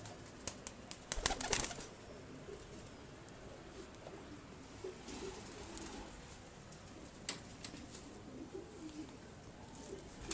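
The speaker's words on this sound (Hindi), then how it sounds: "खूबसूरत कबूतर।" Pigeons of the Ferozpuri slate breed coo softly in a loft, with low, steady burbling running throughout and a few sharp rustles and flaps of wings early on.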